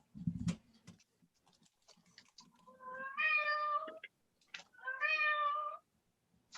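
A house cat gives two drawn-out meows a second or so apart, fairly quiet and close, preceded by a few small clicks and taps.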